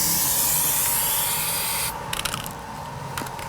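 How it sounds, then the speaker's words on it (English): Aerosol lubricant sprayed onto an RV slide-out mechanism, a continuous close hiss for about two seconds that then stops, followed by a few small clicks and rattles of the can or slide hardware. "So we're just going to start from the back and spray it down."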